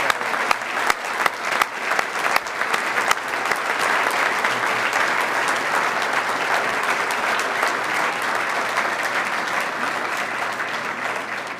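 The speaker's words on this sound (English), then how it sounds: "Let's give another round of applause for Dr. Wayne Webster, the 18th president of Albion College" An audience at an Albion College event applauds the college's new 18th president, starting with scattered separate claps that quickly build into dense, sustained applause lasting several seconds.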